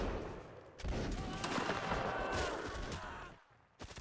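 Musket volley fire in a Napoleonic Wars battle video game: a dense, crackling burst of many overlapping shots lasting a few seconds, fading briefly before another sharp report at the end.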